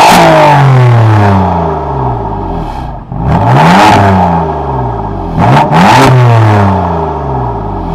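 Loud, close revving of a BMW M3 F80's six-cylinder engine, several sweeping rises and falls with sharp blips around the three- and six-second marks, no talk over it.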